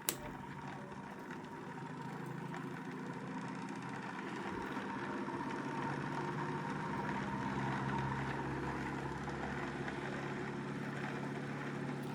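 A homemade 180-degree pulse motor with two parallel 24-volt circuits runs in second gear, giving a faint, steady mechanical whir and hum that rises slightly in pace and stays continuous throughout.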